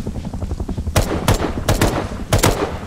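Kalashnikov rifle fire in a survival shooter game: several sharp, loud bursts of automatic shots spaced about half a second apart, standing out over a low rumbling background.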